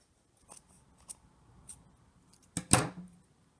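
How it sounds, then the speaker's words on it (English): Fabric scissors snip through cloth strips in a few light cuts, followed by one longer, louder slicing pass, close by in an otherwise quiet room. "I run my scissors down the groove,"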